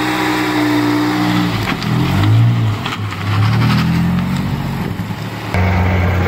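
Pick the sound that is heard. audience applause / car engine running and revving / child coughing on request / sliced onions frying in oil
car engine running and revving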